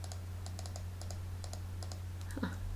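Typing on a computer keyboard: a steady string of sharp, close clicks in small irregular bursts over a constant low electrical hum, with a brief louder knock near the end.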